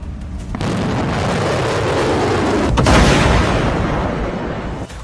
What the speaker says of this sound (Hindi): वही तेवर, वही तेजी, वही स्टाइल, धमाके दर धमाके, मिसाइलों के, रॉकेट के